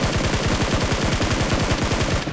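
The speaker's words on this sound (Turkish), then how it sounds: "bir mermi attı ya" Rapid automatic gunfire from a PUBG Mobile match, a fast, steady stream of loud close shots rattling evenly for over two seconds with no pauses.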